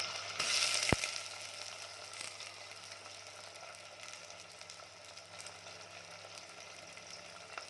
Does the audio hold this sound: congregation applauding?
no